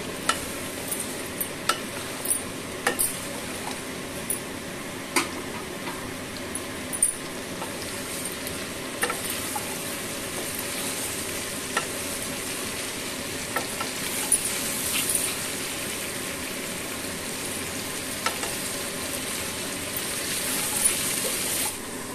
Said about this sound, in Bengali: গ্যাসের ফ্লেমটা বাড়িয়ে এবার হালকা হালকাভাবে ভেন্ডি আলু একসঙ্গে মিশিয়ে নিব